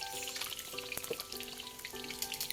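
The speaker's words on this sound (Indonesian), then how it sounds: "Ini digoreng sampai berkulit." Food fries in hot oil until a skin forms, a steady close crackling sizzle with scattered pops throughout.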